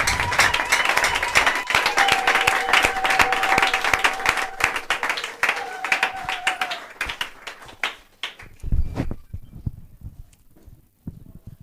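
A church congregation applauds loudly and steadily, a dense wash of clapping with a held tone behind it, then thins into scattered claps and fades near the end.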